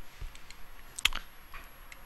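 Typing on a computer keyboard while drafting a section in Revit: a few scattered soft clicks and taps, one sharper cluster of keystrokes near the middle, quiet and close against a low room hum.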